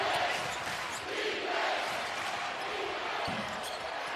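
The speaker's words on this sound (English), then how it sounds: "Listen to this crowd." A basketball arena crowd roars in a steady, broad wash of cheering, loud and sustained, with occasional thumps and a commentator's voice faintly under it.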